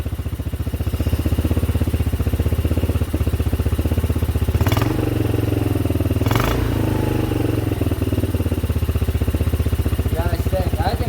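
A revived pit bike engine runs steadily at close range, a loud, even idle with a couple of brief revs midway, while people talk over it.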